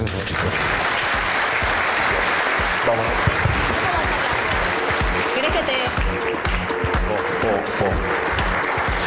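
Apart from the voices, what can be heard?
audience applause after panel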